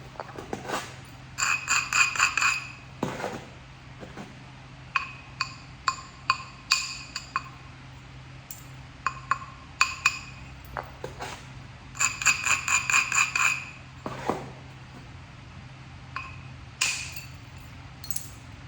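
Pressure flaking Coastal Plains chert during flintknapping yields a string of sharp, close clinks and ticks, some in quick bursts, spread over a steady low hum with no talk.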